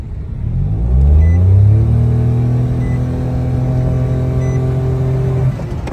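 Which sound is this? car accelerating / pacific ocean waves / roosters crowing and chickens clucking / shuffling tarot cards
car accelerating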